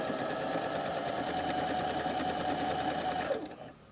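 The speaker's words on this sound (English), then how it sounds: "I'm going to sew it to about 5/8 of an inch down on this end." A sewing machine stitches a double welt pocket in one steady, fast run of needle strokes at moderate level, stopping abruptly near the end.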